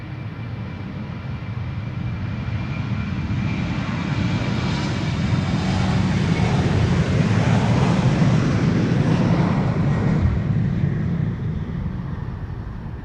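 A KLM Embraer 190 jet, about 18 years old, departs with a broad, steady engine roar that swells gradually toward the middle and stays loud and sustained throughout, with no talk.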